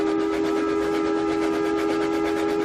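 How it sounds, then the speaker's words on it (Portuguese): A steam train whistle blows in a long steady tone, loud and continuous for the whole stretch, with a faint rail rumble underneath and no voices. "E o apito de um terceiro trem iluminado soou."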